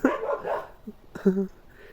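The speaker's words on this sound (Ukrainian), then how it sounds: "Ну, Джек, не гавкай, сачка." A pet dog barks indoors, giving a couple of short, sharp yips close by, mixed with a voice talking.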